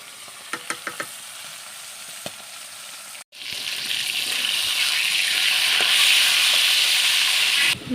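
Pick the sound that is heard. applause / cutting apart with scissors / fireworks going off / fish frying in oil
fish frying in oil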